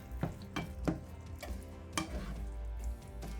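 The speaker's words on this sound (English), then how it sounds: "let it saute just a little bit, so all of the flavors will meld into the meat" Spicy Manwich meat sautéing in a pan, a steady sizzle with several scraping stirs of a utensil against the pan at intervals.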